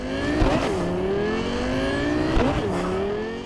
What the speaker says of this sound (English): appreciate the revamped engine sound of the Rayfield Caliburn